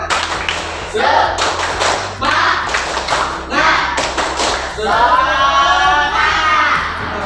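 A school class claps together in a quick, patterned rhythm of sharp bursts, chanting 'tepuk semangat' along between the claps.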